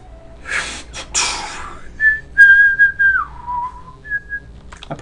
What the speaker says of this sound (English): I probably shouldn't whistle on audio